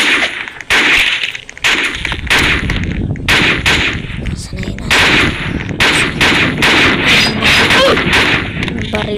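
Rapid gunfire from a video game, with dense bursts of shots and loud repeated cracks filling the whole stretch, nearly continuous with brief gaps.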